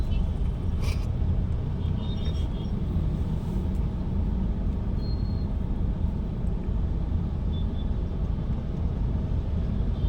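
Steady road traffic noise from inside a moving car, a continuous low rumble with faint passing vehicle sounds and occasional horn-like tones, no talk.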